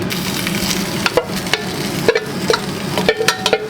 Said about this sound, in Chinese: 我们前期可以先打，让奶油跟洋葱均匀的 mix 在一起。